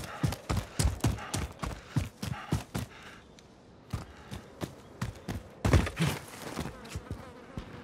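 Footsteps in Call of Duty Warzone thud in a quick, regular rhythm, fairly loud and close. They pause briefly around the middle, then resume with heavier hits.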